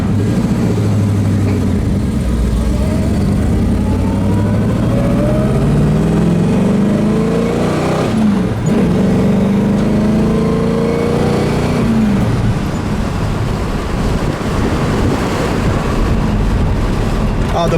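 Engine of a 1970 Chevrolet Chevelle running after a cold start, a loud, steady rumble with rising and falling pitch as it revs, continuous throughout with some voice faintly mixed in.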